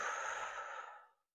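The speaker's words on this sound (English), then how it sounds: "slow deep breathing, that gets your body into a more relaxed state" A single slow, deep exhalation of breath, soft and close, fading out after about a second into silence.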